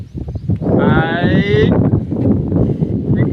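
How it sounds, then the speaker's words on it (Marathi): On a farm, a Khillari bull or cow gives one long, drawn-out moo close by. Steady wind noise and someone talking run under it. "बैल इकडं आणले तर गाई आणल्या इकडं"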